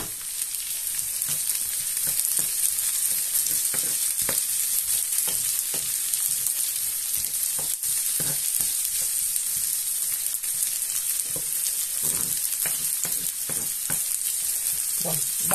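Red pepper fries in a pan with green beans, a steady bright sizzle throughout, broken by regular scraping and stirring knocks.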